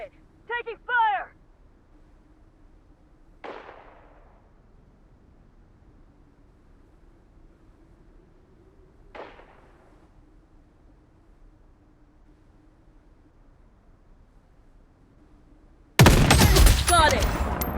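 Gunfire in the shooter game Blood Strike: two isolated sharp shots several seconds apart, then a loud, dense burst of firing at the end, with a short electronic voice cue near the start.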